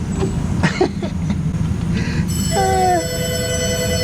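A telephone rings in a workshop, starting partway through as steady tonal bursts over a constant low background rumble.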